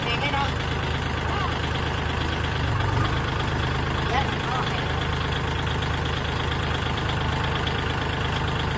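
A 47-horsepower farm tractor hitched to a dump trailer runs at a steady idle, its engine droning continuously and evenly at moderate loudness throughout, with what may be faint voices underneath.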